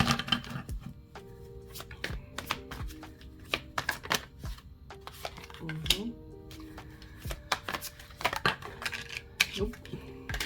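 A tarot deck is shuffled close up in repeated riffling bursts with crisp card snaps, and pauses come between the runs. A person talks quietly underneath.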